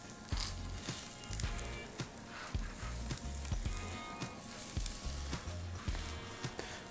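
Food hits a hot pan for a stew meal prep and sizzles steadily, a close, continuous frying hiss broken by repeated low clunks and scrapes of handling.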